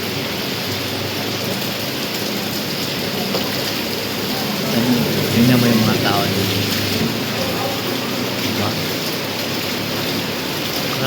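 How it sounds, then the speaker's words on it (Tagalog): Heavy rain pours down in a dense, continuous hiss and roar, loud and close, with a brief low rumble and a faint voice partly buried in it midway. "Kaya ang ulan ba yun?"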